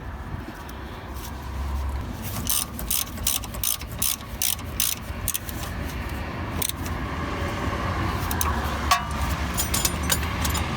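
A ratchet tightens the bolt on a brake hose bracket during a rear brake disc and pad job on a car, giving rapid, close, rhythmic clicking bursts that repeat steadily throughout.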